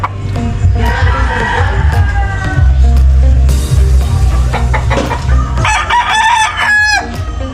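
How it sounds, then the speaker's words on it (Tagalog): Chickens and roosters of mixed breeds on a provincial farm crow loudly and repeatedly, their drawn-out calls overlapping with clucking and a low background murmur. "Hindi ko po alam kung ano mga lahi ng manok ito."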